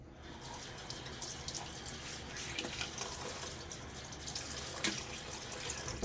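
Tap water runs steadily into a sink while a man wets his face before a shave, a continuous close splashing flow with small drips and splashes.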